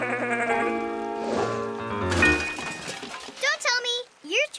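Cartoon goats bleating, wavering drawn-out bleats that start over music and a voice, then come alone in a quick run of loud close calls near the end.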